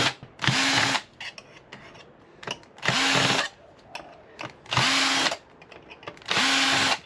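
Power drill spinning out screws from scrap network switches, four loud sustained whirring bursts of about half a second each, separated by quieter clicks and handling noise.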